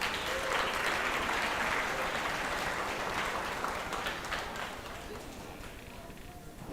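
Ringside spectators at a junior livestock show give Angus cattle exhibitors a steady round of applause, a dense spread of clapping in an arena that holds for several seconds and then gradually thins and fades.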